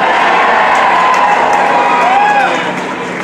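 Concert crowd at a show clapping and cheering loudly and continuously, a dense wash of applause with whoops that eases slightly near the end.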